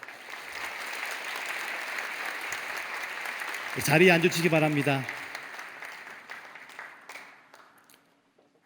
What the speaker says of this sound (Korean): 우리 교우들을 인사하실 때 큰 박수로 격려해 주기 바랍니다.